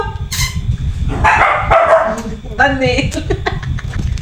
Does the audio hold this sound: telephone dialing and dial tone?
no